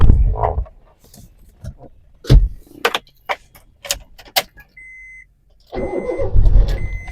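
A car engine cranks and starts after some brief clicks and beeps, then settles into a steady, smooth idle close by with no talking.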